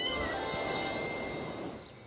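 A kitten meows in a cartoon, a short continuous mewing cry held under a bright, busy musical background that fades slightly toward the end.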